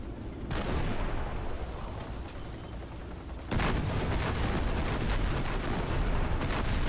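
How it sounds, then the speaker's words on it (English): Rumbling artillery blasts and crackling gunfire in a War Thunder tank battle, a continuous loud barrage that jumps sharply louder partway through as shells land close by, with no talking. "I think that artillery was just dancing as close to me as it could without actually touching"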